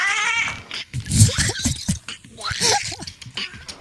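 A beatboxer in a VRChat session imitates a stepped-on cat with the voice, producing a few sharp, strained yowling cries up close, with other voices and laughter mixed around them.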